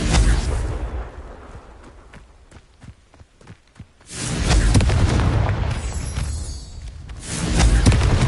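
After a stretch of light footsteps and soft thuds, a Confringo spell in Hogwarts Legacy on PS5 detonates into a heavy booming explosion that lingers as a loud, rumbling roar.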